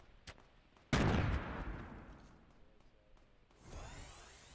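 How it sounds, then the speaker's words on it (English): Gunfire aimed at the player in a video game lands as one loud, sharp crack followed by a long fading rumble, with a smaller shot just before it and another burst near the end. "Getting shot at."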